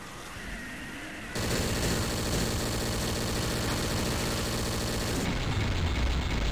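A minigun in the Killing Floor video game fires in one unbroken, dense rattling burst. It is loud and close and runs for several seconds before tapering off, with no talking.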